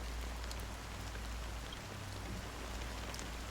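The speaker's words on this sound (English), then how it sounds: "Amidst the fine drizzle of black rain, countless shadowy hands emerged from the sea" Steady fine rain falls in the video game Honkai: Star Rail, a dense even hiss of drizzle with soft drop patter, constant and unbroken, alone with no voices.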